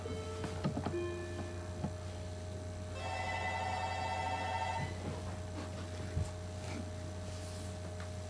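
A telephone in the Clock Tower video game rings for an incoming call: one electronic trilling burst of about two seconds, over a steady low hum, with no talking.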